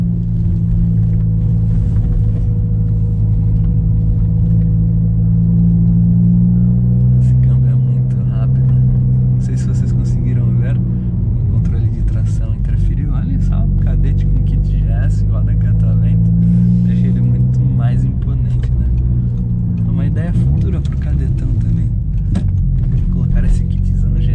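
A car engine idles with a steady low rumble, then takes a brief rev and settles back, continuous and close throughout.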